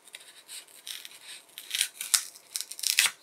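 A small Opinel folding knife slices through balsa wood for crafting a 40mm trout lure, giving a series of dry, crisp scraping cuts that grow louder and closer together toward the end.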